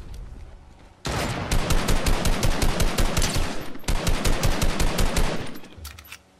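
Sustained rapid gunfire in a video game, a loud machine-gun stream that breaks briefly midway and then resumes at the same rhythm before trailing off.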